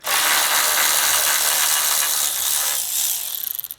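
A ratchet wrench works a 10mm bracket bolt on a stud on a 2023 Chevrolet Silverado during a Whipple supercharger install, giving a dense, steady clicking rasp up close that slows into separate clicks at the end.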